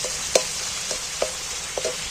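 Masala and onion frying in oil, a soft continuous sizzle punctuated by several light scraping stirs at irregular intervals, close and without any talking.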